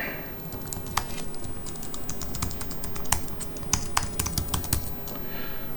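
Steady typing on the keyboard of a new Apple computer, an even stream of soft, close key clicks with a few slightly louder presses, no voices.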